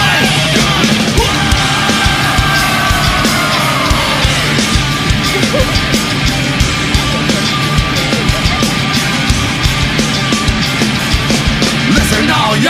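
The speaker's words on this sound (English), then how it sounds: "Are you ready to scream?" Crowd at a loud live rock concert screaming during a performance, a continuous roar of many voices over heavy music and drums, very loud and close throughout.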